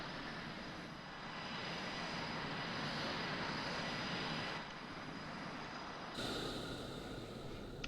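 Steady, loud roar of an aircraft engine during flight in Call of Duty, a continuous broadband drone with a faint high whine, shifting tone slightly partway through as the aircraft keeps flying.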